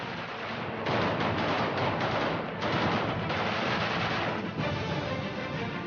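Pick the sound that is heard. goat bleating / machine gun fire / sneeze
machine gun fire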